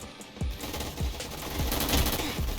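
A scoped gun firing in a Roblox shooter, a steady run of rapid, fairly soft shots with dull thumping reports blending into a continuous rattle.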